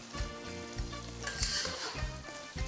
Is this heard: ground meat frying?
yes